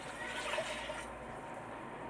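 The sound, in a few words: water poured from a cup into rice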